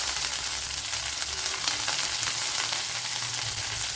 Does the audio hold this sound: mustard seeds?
yes